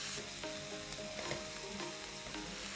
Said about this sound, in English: Once the onions just kind of begin to sweat